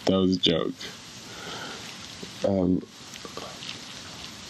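Steady rain falls with a soft hiss throughout, while someone talks briefly over it at the start and again midway.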